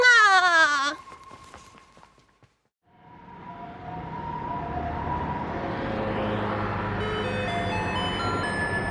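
A garbage truck's music tune plays over a rumbling engine after a short wailing siren sweep and a brief pause, steady and moderately loud.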